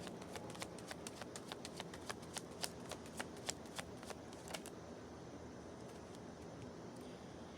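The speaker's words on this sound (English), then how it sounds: "As I was shuffling" Tarot cards are shuffled by hand in a quick run of crisp, rhythmic riffles and snaps, close and fairly quiet, fading to a soft background hush.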